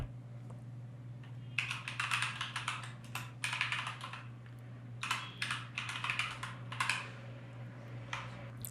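Keystrokes clatter on a computer keyboard as an SQL query is typed at an Oracle RMAN prompt, coming in close bursts of rapid clicks separated by short pauses, with a steady low hum beneath and no voices.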